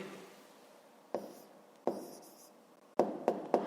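A pencil writes an answer on paper up close in a few sharp strokes and taps, sparse at first and then three quick marks near the end.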